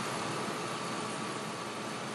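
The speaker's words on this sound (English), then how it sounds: "Now our engine is running" A car engine idles under the hood during an HVAC vacuum-control diagnosis, giving a steady, dense broadband hum with no change in pitch or level and no voices.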